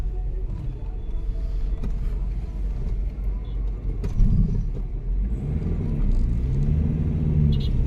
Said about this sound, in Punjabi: ਵੇਖੋ ਕਿਵੇਂ ਗੱਡੀਆਂ ਆਈ ਜਾਂਦੀਆਂ ਤੇ ਜਾਈ ਜਾਂਦੀਆਂ